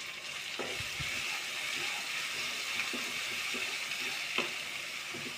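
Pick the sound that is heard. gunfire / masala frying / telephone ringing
masala frying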